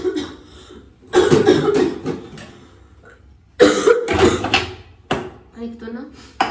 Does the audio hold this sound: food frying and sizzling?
no